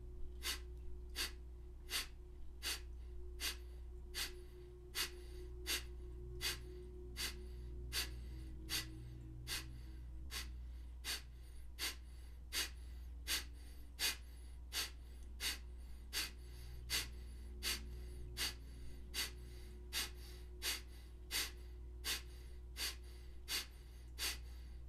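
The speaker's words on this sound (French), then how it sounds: "cette respiration, ce pranayama qui s'appelle Kapalabhati" Kapalabhati pranayama breathing: a long run of sharp, forceful nasal exhalations in a quick, even rhythm, each a short puff, heard close and quiet over a low steady background hum.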